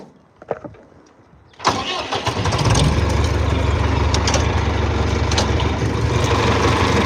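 A farm tractor's engine catches after some brief handling noise and then settles into a loud, steady rumble close by as it plants sweet corn in the field.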